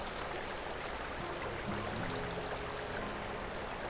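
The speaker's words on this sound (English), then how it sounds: "A swift, cold, pebbly, babbling brook." A swift, cold, pebbly brook babbles in the video game The Night of the Rabbit, giving a steady, even wash of flowing water with no voices.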